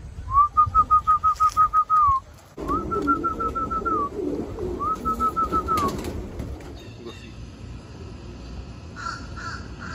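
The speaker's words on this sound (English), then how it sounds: "So that's actually the call of a raven, common raven." A common raven calls in three rapid bursts of throaty, pulsing croaks, close and clear, followed by quieter outdoor background with faint distant bird sounds.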